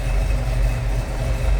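A 1970 Ford Mustang Mach 1 fastback's 428 Cobra Jet V8 idles with a steady, smooth, low rumble heard up close and with no other sound over it.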